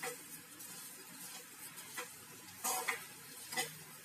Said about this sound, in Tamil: சீனியும் சேர்த்து நல்லா மிக்ஸ் பண்ணி விட்டுக்கலாம்